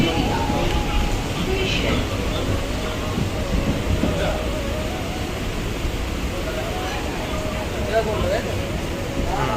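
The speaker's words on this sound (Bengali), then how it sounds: "এখন ট্রেন আসুক তারপর আমরা উঠবো" A train pulls into a station at Bongaon in West Bengal, its steady rumble and rail noise filling the scene throughout as people talk nearby.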